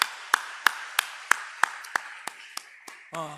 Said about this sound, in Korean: 다시 한번 박수로 우리 격려하도록 하겠습니다